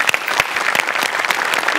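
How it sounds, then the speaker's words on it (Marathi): Loud applause for a performer on a Marathi comedy stage show, dense steady clapping from a studio audience filling the whole moment without speech. "तुझ्यासाठी एकदा जोरदार टाळ्या."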